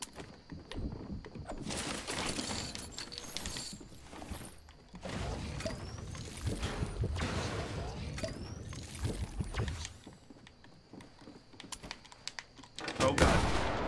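Hand cannon fire in the video game Fortnite comes as several sharp, loud bursts spread across a noisy game soundscape, with the heaviest shots near the start, middle and end.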